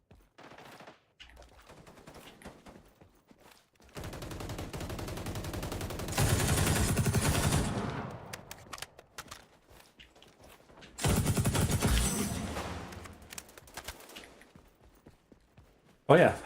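Rapid SMG fire in an online shooter game, rattling in long sustained bursts, loud and close, with quieter stretches of game noise between them.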